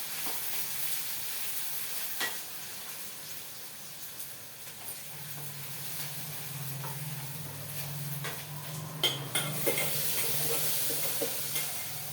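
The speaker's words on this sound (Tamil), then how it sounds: "வெங்காயம் தக்காளி வதங்கிடுச்சு, கத்திரிக்காய் போட்டுக்கலாம்." Onion and tomato sautéing in a home cooking pan give a steady, close sizzle with occasional stirring clicks and scrapes, continuous throughout with no talking.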